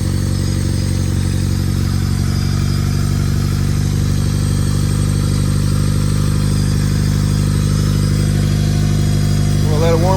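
A rebuilt Honda D16Y8 engine in an EG Civic idles steadily after being reinstalled, a loud, even mechanical drone that holds throughout, with a faint brief rise near the end.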